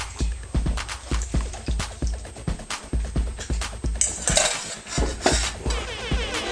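Sharp clinks and knocks of a utensil in a bowl while eggs are added to sweet potato pie filling, an irregular rhythm of close taps and scrapes, then brief splashy rustling near the end.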